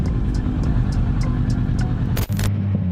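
A car crossing the road during a motorcycle encounter, heard as a steady close engine rumble with periodic ticking, then a sharp loud burst near the end before the engine settles into a lower hum.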